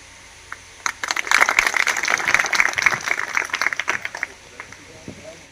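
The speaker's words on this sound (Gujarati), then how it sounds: "તાળીઓ બંધ ન થવી જોઈએ" An audience claps at a school admission ceremony at an ashram school, a dense burst of applause rising after a second, holding steady for several seconds, then thinning out as a speaker's voice continues over it.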